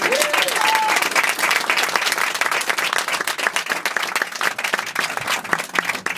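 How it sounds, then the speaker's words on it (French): Loud audience applause for a performer at a French children's show, dense steady clapping that carries on through the whole stretch with a few voices mixed in. "On applaudit très très fort notre cigale."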